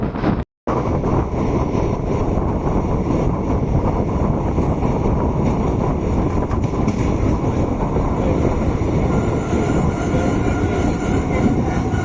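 A passenger train heading toward Nilambur runs on rails, a loud continuous rumble and clatter of wheels heard from inside, steady throughout after a brief dropout at the start.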